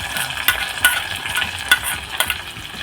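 Onion tempering stirred into a drumstick and bean dal, a steady close scrape of the spoon against the pot under a soft sizzle, with sharper clinks of the spoon hitting the rim at regular intervals.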